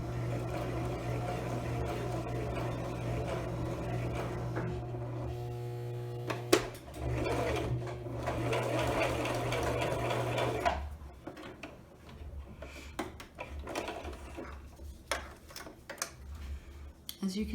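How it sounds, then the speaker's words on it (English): A home sewing machine stitches a seam with an eighth-inch allowance while sewing a pouch, a steady mechanical whir and ticking that runs for about ten seconds, then stops, followed by quieter handling clicks. "I'm going to lower my needle, and I want to make sure again that I have 1/8 inch, and I'm going to start to sew."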